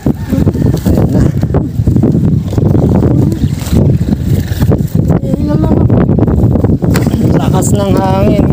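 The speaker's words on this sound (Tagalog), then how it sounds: "Lakas ng hangin guys." Strong wind blows across an open bell pepper farm field, giving a constant low rumble against the microphone. People talk loudly over it throughout.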